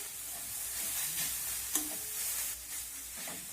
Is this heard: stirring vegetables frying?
yes